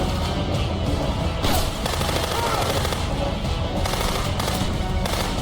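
Continuous gunfire from the video game Rogue Warrior, a dense, steady roar of shots with no clear gaps, loud and sustained throughout.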